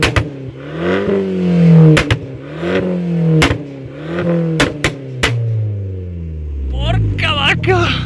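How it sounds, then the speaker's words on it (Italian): An Abarth 595 engine revving hard in repeated rising and falling blips, loud and close, with sharp exhaust bangs cracking between revs and a voice briefly exclaiming near the end. "siamo sull'auto italiana che fa più casino ai raduni"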